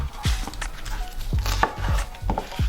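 A knife chopping a red onion on a cutting board, with about six distinct, sharp thuds spaced irregularly, close and clear with no talking.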